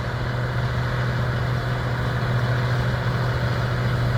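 An old Massey Ferguson 760 combine with a Perkins diesel engine idling, a steady low droning hum with a strong, even tone and constant loudness, close by.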